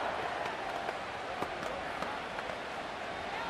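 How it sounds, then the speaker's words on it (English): A stadium crowd in the Madden 26 football game during a Lions versus Packers match gives a steady, dense roar and cheer that stays even throughout, with faint claps popping through the wash. "This crowd doing all they can"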